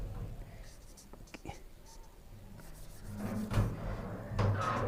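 A maths solution written out by hand for a class 10 exercise, soft close pen scratches and taps, some brief sharp strokes early on, with a voice murmuring over the writing in the second half.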